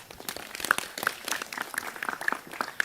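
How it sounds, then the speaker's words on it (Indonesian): Scattered audience clapping at a village community gathering in Wonosalam, Jombang, with uneven individual claps and some sharper close hits, moderately loud and with no speech over it. "Tepuk tangan buat Wonosalam."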